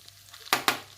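Rava frying in hot desi ghee as it is stirred, two sharp scraping strokes against the pan over a faint steady sizzle, close and brief.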